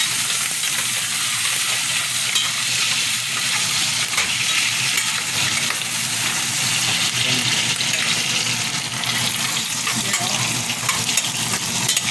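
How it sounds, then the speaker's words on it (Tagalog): Beef fat sizzling and melting in a hot pan while pinapaitan is cooked, a loud, steady, dense frying hiss lasting throughout with faint stirring clinks, and no voices. "Gisa natin yung taba."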